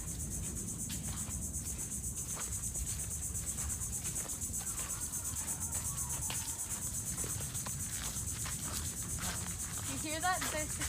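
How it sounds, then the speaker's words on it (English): Cicadas drone high and steady in trees beside a picnic area among sea grapes, a continuous shrill buzz that persists through the whole stretch with outdoor rustling and faint voices underneath. "You hear that? There's cicadas."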